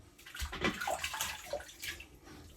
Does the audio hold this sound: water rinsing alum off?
yes